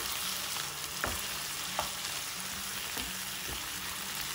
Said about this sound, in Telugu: దీనిలో కట్ చేసి పెట్టుకున్న టమాటాని వేసి బాగా సాఫ్ట్గా అయ్యే వరకు వేయించుకుందాం.